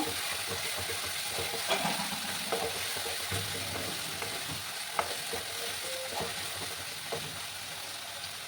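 Ground spices with cumin powder stir-fried in a pan while cooking echor chingri (jackfruit and prawn curry), giving a steady close sizzle with occasional scrapes and taps of a spatula throughout.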